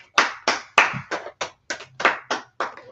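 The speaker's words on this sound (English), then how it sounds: "Let's clap it up for the sister" An audience claps for a woman in short, uneven bursts of hand claps, about ten separate sharp slaps over a few seconds, close and fairly loud with brief gaps between them and no talking.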